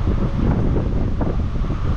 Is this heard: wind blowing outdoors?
yes